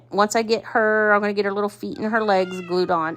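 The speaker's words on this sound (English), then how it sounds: "if you hear the meowing" A cat meows repeatedly in drawn-out, wavering cries close by while someone talks over it, the meows overlapping her speech throughout.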